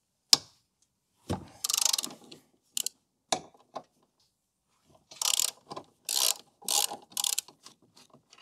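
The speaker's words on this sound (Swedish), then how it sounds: "sen ska vi lossa på bultarna som håller hela det här staget nu då" Ratchet wrench working the 13 mm bolts on a Volvo S60/V70/XC70 strut brace, bursts of rapid close clicking separated by pauses, with scattered single clicks and clunks of the tool.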